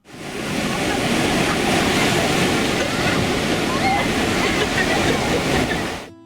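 Sea waves washing in at a beach near a pier in a Japanese village, a loud, steady surf roar with wind noise on the microphone.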